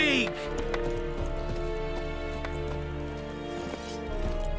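A horse gallops in The Witcher 3, with steady rhythmic hoofbeats under a sustained musical score, while voices are also heard.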